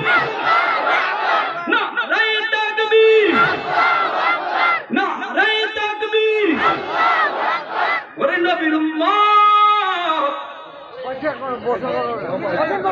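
A large crowd at an Islamic waz gathering answers the takbir call with loud, drawn-out unison chanting shouts, repeated in several swelling waves close by, with a voice leading between them.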